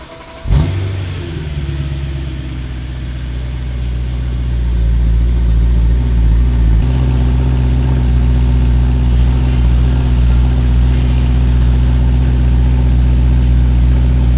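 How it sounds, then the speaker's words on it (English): A BMW E92 3 Series engine cranks and catches with a sharp burst, then settles into a steady, loud idle rumble that continues to the end. "I'm going to start the car"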